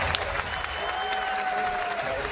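Applause and cheering from a crowd at a skateboarding contest, the SLS LA 2015 finals, fill the space with dense, steady clapping and whoops under an announcer's amplified voice.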